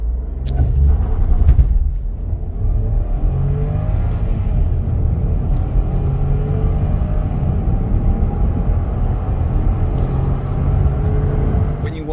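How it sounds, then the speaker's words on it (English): A 2023 Audi A3 driving with its mild hybrid system, steady engine and road rumble throughout, with a faint rise and shift in engine tone as it upshifts automatically; no talk. "It will automatically upshift for you."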